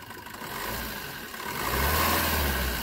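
A 2015 Maruti Suzuki Swift VDI car engine idles and then revs up, its steady mid-pitched hum climbing louder and smoother over a few seconds, close by.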